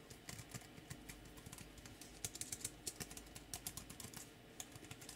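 Soft, rapid typing on an Art AB-101 tablet case keyboard, with quiet, low-travel key clicks in an irregular rhythm, close by with no voices.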